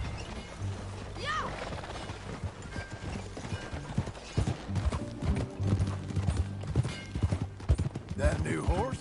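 Horse hooves clip-clop in Red Dead Redemption 2, rhythmic hoofbeats moving at a ride, joined by a horse's whinny and snorts, with game music and a character's voice in the background.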